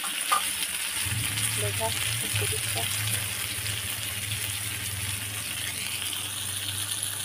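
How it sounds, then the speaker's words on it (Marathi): Kadi fish frying in a pan, a steady hiss of hot oil sizzling throughout, with a low hum underneath and someone briefly speaking near the start. "इथे मी मस्त असे फ्राय मारून घेते मछलीला"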